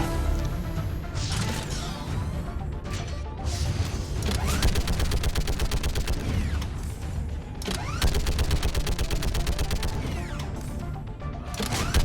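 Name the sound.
fixed turret gun firing in the video game Mass Effect 3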